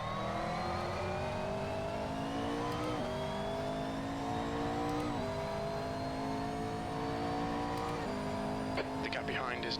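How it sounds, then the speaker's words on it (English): Stock engine sound of a McLaren GT3 car in a racing video game at Canadian Tire Motorsport Park, a continuous high-revving drone rising through gears with short dips at each shift, heard under a voice talking. "But for my money, I really like the stock sounds for the McLaren."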